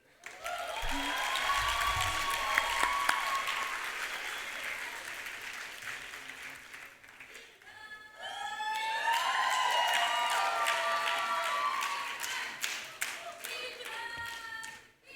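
An audience at an opening ceremony applauds with cheers and children's shouts mixed in, two swells of clapping separated by a brief lull, fairly distant and moderately loud.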